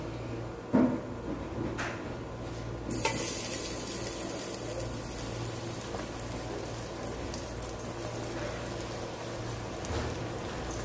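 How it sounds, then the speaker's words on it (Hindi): Chicken pieces for crispy KFC-style broast fry steadily in hot cooking oil, a continuous close crackling sizzle with a few sharper pops and clatters near the start, no talking. "जब कुकिंग ऑयल अच्छी तरह से गर्म हो जाएगा फिर उसमें फ्राई करना है"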